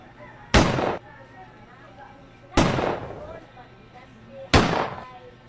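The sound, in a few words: gunshot sound effect in a hold-up skit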